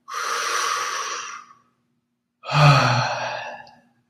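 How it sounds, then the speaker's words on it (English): Two slow, airy breaths during a chest-opening stretch for neck and shoulder pain, close and clear: a long exhale, a pause of silence, then a fuller breath with a slight low voiced edge. "use some light breathing into the chest to open up even more"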